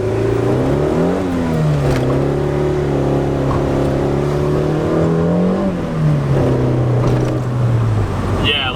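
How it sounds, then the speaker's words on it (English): A 1993 Honda Civic hatchback, running cold after a shift linkage bushing install, revs hard up close as its engine climbs, shifts and rises again while the tires spin. "All right, boys, so I'm gonna spin tires"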